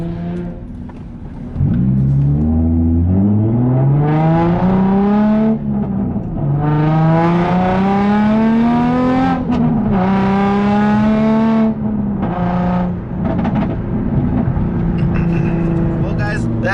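A Nissan 350Z with a cheap aftermarket exhaust revs loudly and repeatedly up and down, the engine note rising and falling in several close, sustained pulls.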